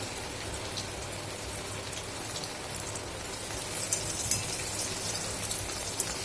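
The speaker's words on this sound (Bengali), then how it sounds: "আবারও ওই একই তেলে আবার আমি ডালটা দিয়ে ভেজে নেব" Chana dal fries in hot oil for a spiced dalmut snack, giving a continuous dense sizzle and crackle with a few sharper pops, steady and close.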